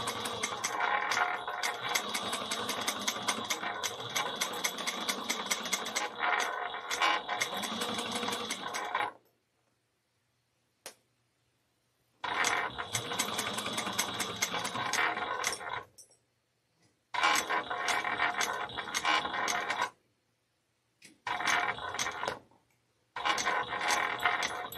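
Sewing machine stitching a bag, running in long bursts separated by pauses, with short back-stitch runs near the end; a close, steady mechanical whir with no talking.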